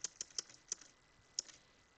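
Typing on a computer keyboard: a handful of crisp, close key clicks in an uneven quick burst, then a pause and one last tap, quiet and alone.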